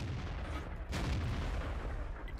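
Tiger tank main gun firing in World of Tanks: a single loud cannon blast cuts through steady engine rumble, then the low background drone continues alone.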